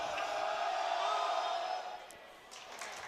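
Eighth-grade fans cheer in a gymnasium during a Bergen Catholic versus Paterson-Kennedy basketball game, a loud, echoing roar of voices that fades after about two seconds into a quieter murmur with scattered shouts.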